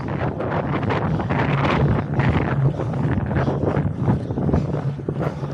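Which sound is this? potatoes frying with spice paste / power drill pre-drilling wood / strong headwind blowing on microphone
strong headwind blowing on microphone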